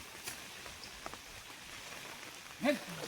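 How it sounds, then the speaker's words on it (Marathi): Heavy monsoon rain falls on a Konkan rice field during traditional paddy planting, a soft, steady hiss heard from a distance, with a brief voice near the end. "आणि पाऊस पण जोरात येतोय."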